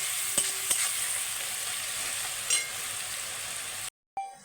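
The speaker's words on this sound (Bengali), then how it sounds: "পেঁয়াজটাকে একটু লাল লাল করে ভেজে নেব।" Salted onions fry in a pan toward a reddish brown for Bengali handi mutton, giving a steady, close sizzle with a few stirring clicks before the sound cuts out briefly near the end.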